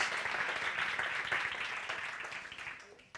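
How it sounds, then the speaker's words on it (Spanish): Applause from an audience at a cocktail symposium, greeting a presenter who serves rice-spirit and fermented-rice cocktails; steady, dense clapping that holds for about three seconds, then thins and stops. "Un aplauso para él."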